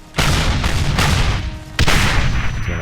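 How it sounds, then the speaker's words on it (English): German 88 artillery firing in the Brothers in Arms: Hell's Highway video game, two heavy booming cannon blasts about a second and a half apart, each with a long rumbling roll of echo, loud and close. "There are artillery pieces like, the German side, the dreaded 88."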